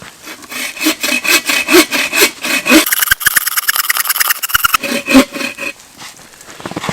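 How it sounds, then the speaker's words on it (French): A hand saw cuts through a log in a snowy forest, with loud, close, rhythmic back-and-forth strokes that quicken into a rapid rasping burst before slowing again. "Je vais scier ce tronc là en deux et ça me fera la délimitation de mon"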